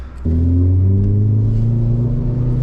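A Lexus LS400 and a VW GTI rev up before a race: after a brief idle, an engine note jumps to a loud, sustained drone that climbs slowly in pitch and holds close by.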